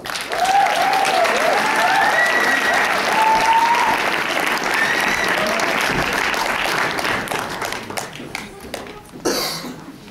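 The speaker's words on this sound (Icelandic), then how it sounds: "Gefum honum gott klapp." An audience at a music contest heat applauds a young performer with sustained, dense clapping and some whoops, fading toward the end with a cough or two in the room.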